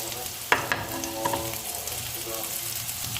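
A single green chili drops into aloo palak frying in a pan, setting off a sharp crackle and a steady sizzle that continues close and clear, with no talking.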